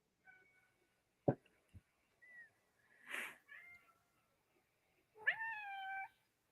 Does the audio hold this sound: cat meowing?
yes